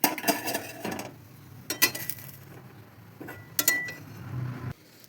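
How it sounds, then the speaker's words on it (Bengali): A metal pan lid clinks and clatters while milk pitha cooks, with several sharp bright knocks spaced a second or two apart over a low sizzling hiss, close by and without talk. "এবার ঢেকে দেবো, এবার ঢাকনাটা নামিয়ে দেবো।"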